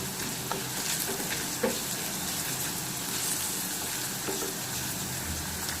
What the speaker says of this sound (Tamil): நல்லா அதை கிளறி விட்டுக்கலாம்